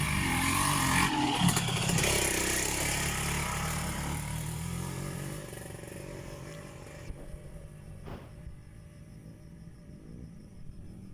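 Several motorcycles ride past on a rural road in San Jose, Koronadal City, their engines rumbling loud and close at first, then fading into the distance, with no talking.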